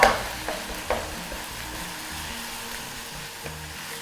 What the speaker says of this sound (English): after I've sauteed the garlic and ginger, I'm going to throw the minced meat in